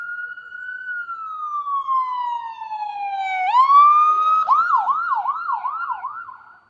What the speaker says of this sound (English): I would take a pause because there's an ambulance coming through right now.